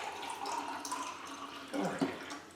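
Clear water splashes and trickles as it is poured into a glass, a continuous soft liquid rush with a few brighter splashes near the end and no talking.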